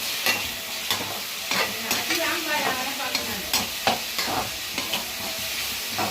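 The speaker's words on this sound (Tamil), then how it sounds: "கொஞ்சம் தக்காளி வதங்கட்டும்" Tomato and onion sauté in a pan for a tamarind eggplant fry, a steady close sizzle broken by repeated scraping stirs at a loose, regular pace.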